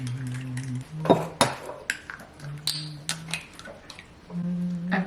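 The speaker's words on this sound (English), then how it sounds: "In a mixing bowl, we're gonna combine the pancake mix, which is that, milk, eggs, and vegetable oil, whisking until smooth." Pancake batter of pancake mix, milk, eggs and vegetable oil being whisked in a mixing bowl, irregular clinks and taps of utensil on bowl alongside short ringing dish tones, close and fairly quiet.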